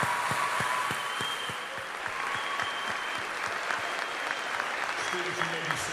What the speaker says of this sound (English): Could we have a round of applause for all of these students for receiving the Presidential Excellence